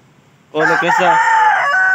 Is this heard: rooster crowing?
yes